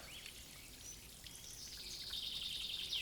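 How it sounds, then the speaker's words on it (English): Outdoor ambience with faint bird calls: a thin whistle early and a longer sustained chirping trill toward the end, over a soft hiss like light rain or wind. "I could spend hours just staring at the sky and listening to the birdsong."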